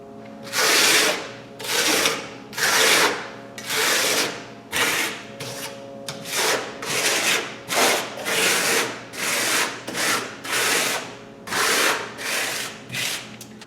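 Trowel spreading Deco Lime coloured lime plaster across a wall, a steady sequence of about a dozen close, rhythmic scraping sweeps over a faint background hum, with no voices.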